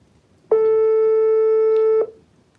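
A telephone ringback tone sounds while a call waits to be picked up: one steady, clear electronic tone of about a second and a half, alone and fairly loud, then silence.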